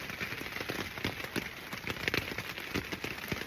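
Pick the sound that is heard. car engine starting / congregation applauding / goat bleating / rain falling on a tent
rain falling on a tent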